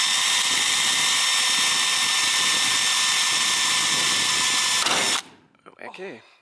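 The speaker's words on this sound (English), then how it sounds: "just pop your drill bit through that same hole" A power drill whines steadily at high speed for about five seconds while drilling through an RV wall, then cuts off abruptly, followed by faint handling noises.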